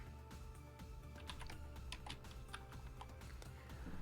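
Code being typed on a computer keyboard, quick light key clicks in uneven bursts, close and fairly quiet, with no speech.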